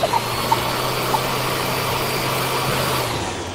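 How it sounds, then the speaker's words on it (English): A steady motorized suction drone of a dental vacuum in the VR dentistry game Titans Clinic, a constant hum running alone without pause, with a few faint clicks near the start. "We need the vacuum again."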